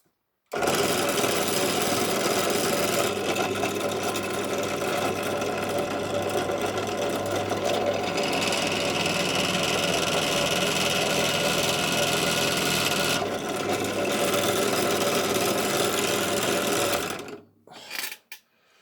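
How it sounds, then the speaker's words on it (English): An electric drill whines steadily at close range for about seventeen seconds while assembling a Matchbox Lesney Daimler Bus model, then cuts off and winds down. "all I need to do is just turn on the drill. It's going to make a bit of a noise"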